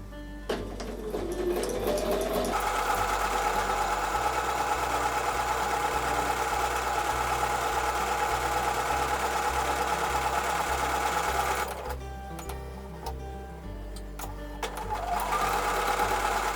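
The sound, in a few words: sewing machine stitching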